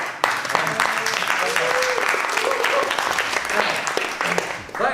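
Audience applause at a talk on social cleansing and squatting, a dense crackle of clapping that runs for several seconds with someone speaking over it.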